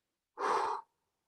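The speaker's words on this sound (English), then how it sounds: "This time we're breathing more as a whoo sound" A single breathwork exhale is pushed out as a breathy whoo sound, close and fairly soft. It lasts about half a second and is surrounded by silence.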